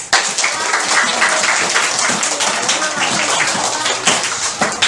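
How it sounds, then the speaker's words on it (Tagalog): Steady, loud applause from a debate audience fills the whole stretch, many hands clapping at once with no pause. "So, palakpak sa dalawang grupo, mga nanonood."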